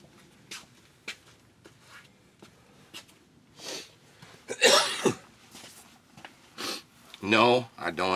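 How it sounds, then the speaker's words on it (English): A person coughs several times in short bursts, close by, with sniffs and throat noises in between and some talk in the room. "I had a cough."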